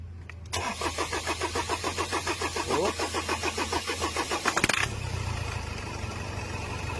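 A car with an engine that is hard to start, long left overgrown with grass, cranks in a rapid rhythmic chug for about four seconds, then catches and settles into a rough, steady idle.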